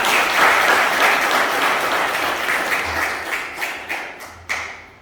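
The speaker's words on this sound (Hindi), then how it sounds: "अगर क्लियर हुई है तो ताली बजा सकते हैं" An audience at a Brahma Kumaris spiritual talk claps together in a sustained burst that slowly thins out, with a few last scattered claps near the end.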